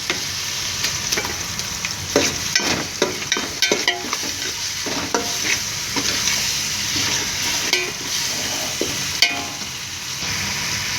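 Small shallots frying with ginger in oil for beef wheat rava biryani, with a loud continuous sizzle and frequent irregular scrapes and knocks of a spoon against the pot, heard up close.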